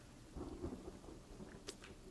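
Thunder in a video game, a low distant rumble rolling under soft rain, faint and steady, with no talk.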